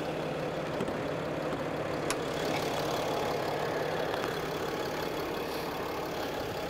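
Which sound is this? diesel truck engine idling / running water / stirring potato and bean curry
diesel truck engine idling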